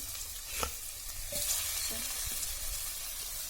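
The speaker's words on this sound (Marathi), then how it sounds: "आता तेल चांगल्या प्रकारे तापलेलं आहे तरी आपण वडे टाकून घेऊ" Kothimbir vadi, Maharashtrian coriander fritters, go into well-heated oil, producing a quiet continuous sizzle with a few soft thumps and crackles as pieces are added, near but faint.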